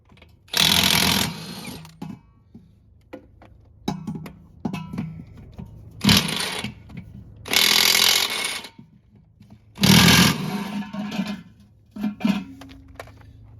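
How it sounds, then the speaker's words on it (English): A Milwaukee 1/2 inch drive impact wrench removes wheel nuts on a Blue Bird bus chassis, firing in four loud, rattling bursts of about a second each, separated by quieter clanks and handling noise. "This is a Milwaukee 1/2 inch drive impact wrench."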